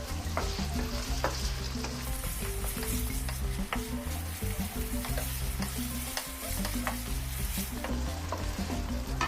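Chicken pieces sizzle in a hot pan, a dense, continuous frying crackle with occasional stirring clatter, close and steady throughout, with no talking.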